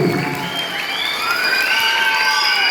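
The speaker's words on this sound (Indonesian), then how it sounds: "beri tepuk tangan yang meriah untuk kelas 1" Audience at an Islamic school arts performance for Isra' Mi'raj applauding and cheering for first-grade pupils, a dense continuous wash of clapping with high children's shouts and squeals layered on top, loud and sustained.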